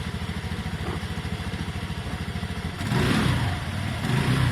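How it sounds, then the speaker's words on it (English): A Lexmoto motorcycle engine ticks over with a steady low pulse, then revs up louder around the three-second mark and again near the end, a close, rough mid-range buzz. "Rev the lexmoto a little bit,"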